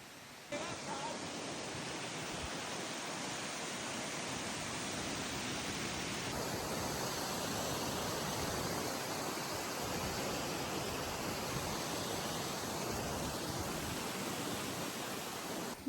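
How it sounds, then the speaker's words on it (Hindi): Rushing water from a Himachal waterfall in Kinnaur, a loud, continuous broadband roar that fills the whole stretch without pause. "मतलब वाटरफॉल में आए हैं और पानी को टच नहीं किया"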